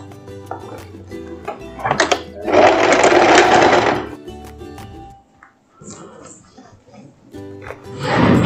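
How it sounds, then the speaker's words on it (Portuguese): A sewing machine stitches elastic onto a lace dress skirt in loud bursts of motor whir, with pauses between runs and soft handling noises in the gaps. "E agora nós vamos costurar a parte do elástico aqui na saia."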